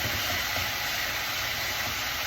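Chicken frying in a pan gives off a steady, dense sizzle and hiss that fills the whole stretch evenly, close and unbroken, with no voices.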